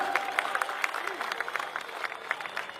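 A crowd at an Independence Day public meeting in Agra breaks into applause, a rippling stream of claps with distinct sharp hits over a murmuring gathering, moderately loud and continuous.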